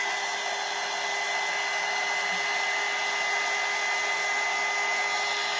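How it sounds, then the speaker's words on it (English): A hair dryer blows steadily on a damp decorative peat pot craft, a close, constant whooshing roar with a faint whine, unbroken and with no voices. "I'm going to hit this with the dryer real quick because it is a little wet still"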